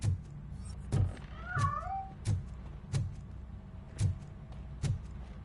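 A cat meows in the game Robocop: Rogue City, giving a short, faint rising cry against a quiet background with soft repeated thumps.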